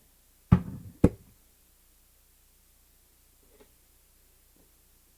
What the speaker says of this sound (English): just use a wheel nipper and just place your piece in and just cut it